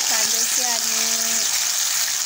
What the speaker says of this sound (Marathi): ती प्युरी आपण टाकून मस्त भाजून घेऊ